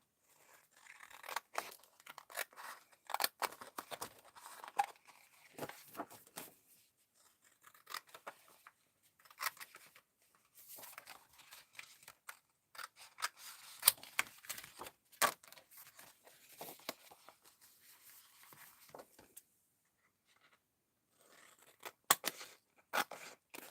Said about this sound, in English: I'm cutting around the black piece so I know it's the right size